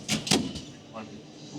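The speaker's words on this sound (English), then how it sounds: "Door closes, everything's in and done." A Jeep door closes on a modified off-road rig with a rooftop tent at a Smoky Mountains off-road gathering, giving two quick solid thumps up close, followed by quieter ambient noise.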